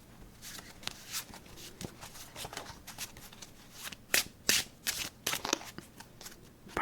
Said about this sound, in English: we're going to shuffle a few times and play a game of aces up